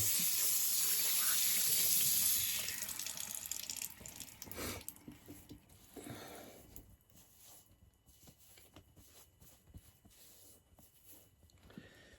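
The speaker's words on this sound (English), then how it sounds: "Let's switch over to cold water here." Water runs steadily from a tap at first, then fades to scattered drips and small splashes.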